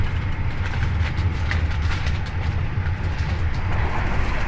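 Jaka Tingkir economy passenger train pulling away again on the southern Jakarta–Jogja line, a steady low rumble of wheels and carriage with constant rolling noise throughout, heard from on board.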